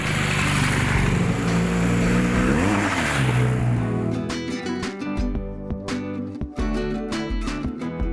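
A BMW R1200 GS motorcycle rides through rural Colombian countryside, its engine drone steady and loud at first, then giving way to clattering, ticking mechanical and road noise.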